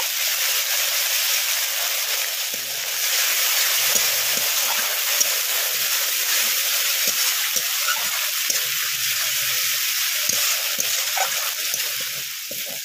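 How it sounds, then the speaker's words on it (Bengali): Ginger-garlic paste with ground dried chili, cumin and pepper fries in oil for sea crab curry, a continuous bright sizzle running throughout with scattered small pops and the occasional scrape of a stirring spoon. "মশলাটা ভালো করে কষিয়ে নেব।"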